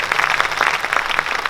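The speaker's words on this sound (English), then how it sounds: "Can we give her a round of applause, please?" Audience claps in a brief, dense burst at a Malay cultural festival performance, the claps close and lively throughout.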